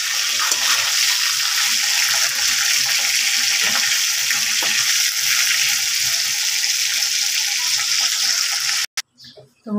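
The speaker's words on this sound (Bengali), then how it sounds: "মাছের একটু ভেজে নিই" Pieces of rohu fish fry in a pan, giving a loud, steady hiss and crackle of hot oil that runs nearly the whole time before cutting off abruptly near the end.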